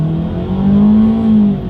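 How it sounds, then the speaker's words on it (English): A 2020 Ford EcoSport's inline four-cylinder engine accelerating hard, a loud, steady drone that rises in pitch as it revs up. Close and continuous, with no talking. "dang, this engine gets loud when you really put the pedal to the metal here"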